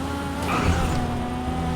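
A Toyota Supra's engine in the game GTA 5 Online, a sustained droning motor tone with a brief swelling rush as the car moves, loud and steady for under two seconds with no talking.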